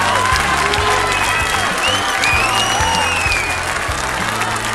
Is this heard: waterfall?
no